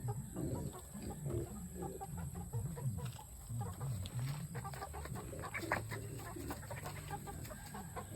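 Shamo gamecocks cluck and squawk steadily inside a farm coop, several birds close by with overlapping calls and occasional louder crows, no talking.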